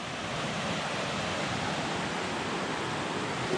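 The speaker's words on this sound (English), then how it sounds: "Enjoyed the sounds of the river very much for sleeping." The Cispus River flows nearby at an overnight campsite, making a steady, dense, close rushing wash that holds the same level throughout.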